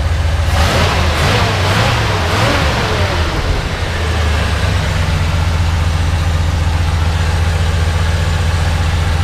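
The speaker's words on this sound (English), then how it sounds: "But you can see it runs really smooth. Rev it up a little bit." A 1973 Ford F100 Ranger XLT 4x4 with an FE V8 is revved a few times up close, then settles into a steady, loud, deep idle rumble.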